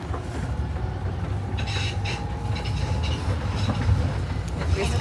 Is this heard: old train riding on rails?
yes